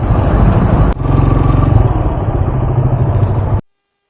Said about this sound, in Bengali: বাইক ঢুকিয়ে দিই।